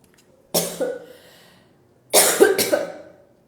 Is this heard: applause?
no